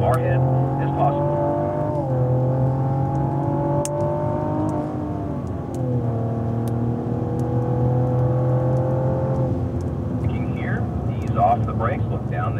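A 2016 Cadillac ATS-V accelerating on a racetrack, engine note climbing steadily through the gears with a drop at each shift, loud and sustained from inside the car.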